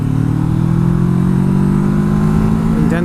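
A Kawasaki Versys 650 motorcycle engine pulls steadily from about 3000 RPM, a loud, continuous mid-pitched drone that holds its tone with a slight rise, heard close-up while riding with no voices.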